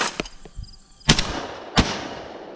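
A Mossberg SA-28 28 gauge semi-automatic shotgun fires outdoors at a range, giving two sharp, loud reports about two-thirds of a second apart, each trailing into a fading echo, with fainter pops early on.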